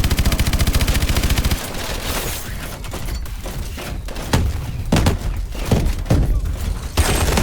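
Main gun fire in Call of Duty: Advanced Warfare: a loud, dense mechanical rattle at first, then a run of heavy booming blasts and impacts at uneven intervals, close and filling the mix.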